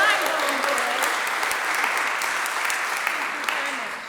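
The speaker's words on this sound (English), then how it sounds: "Applause to Elspeth, who's hot-footed here." Steady concert audience applause, a dense wash of many hands clapping at an even level throughout, with faint talk mixed in beneath it.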